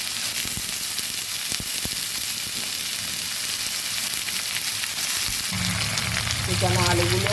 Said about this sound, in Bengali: কুচানো আলুগুলো আর করলা ভাজিগুলো দিয়ে দিলাম।